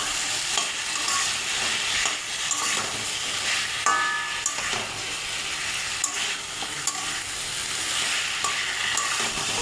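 Katla fish curry with drumsticks and potato being stirred and fried in a pan, a continuous close sizzle broken by repeated scraping strokes and occasional clinks of the spatula, with no talking.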